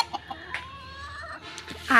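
A broody desi hen clucks softly and repeatedly nearby, with short drawn-out vocal notes and a few small knocks in an otherwise quiet space.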